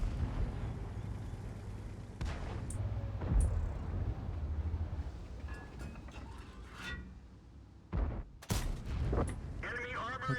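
Tank cannon fire in a tank video game with heavy T10 tanks such as the IS-7: several booming shots and impacts at irregular intervals over a rumbling engine bed, with sharp bursts near the end.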